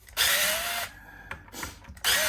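A power screwdriver loosens the neck screws on a Fender partscaster guitar, with two loud, close whirring bursts separated by quiet clicks and handling noise.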